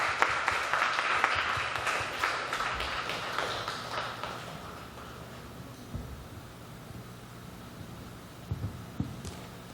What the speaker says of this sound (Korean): 우리 김영렬 선교사님 나오실 때 박심사의 박수로 환영하겠습니다